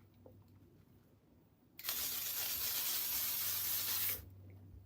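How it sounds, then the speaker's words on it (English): A L'Oreal 3 Seconds Setting Spray fires one continuous, close, loud hissing burst of about two and a half seconds, cutting in sharply and stopping abruptly amid a quiet room. "I'm gonna go in with, excuse me, this L'Oreal 3 Seconds Setting Spray."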